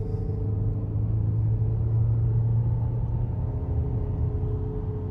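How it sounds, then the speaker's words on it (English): A twin-turbo car accelerates onto an interstate in second gear, producing a steady, loud engine rumble with a low droning tone that holds throughout, with no talk. "accelerate onto the interstate. Let's go. All right, second gear."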